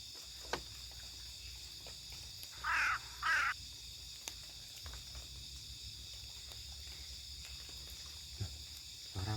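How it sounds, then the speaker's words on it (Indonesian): Owl calling at night at a rainy overnight campsite, two short hooting calls close together heard faintly over quiet insect and background hum. "Burung hantu bunyinya gitu."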